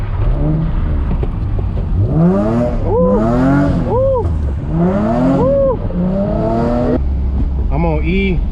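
A car's engine revs hard and repeatedly, in rising and falling sweeps, while it drifts through the street at night, with gear changes between pulls. The sound is loud and close throughout, and the hard throttle blips go on steadily without a break.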